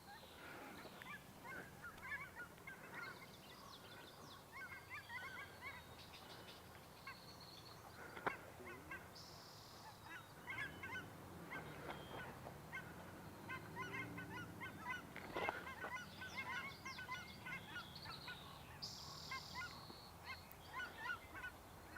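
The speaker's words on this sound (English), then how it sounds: "So the cackling goose, that's what Merlin ID heard." A flock of cackling geese honks outdoors in early May at Sargeant Bay Provincial Park, a coastal park, a steady chorus of overlapping calls at middle distance with no talk.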